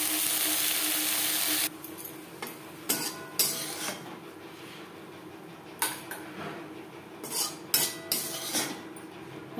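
Fried jute leaves are scooped from a wok into a bowl with the gas off, giving a run of light metallic scrapes and clinks, close and irregular, with no one speaking.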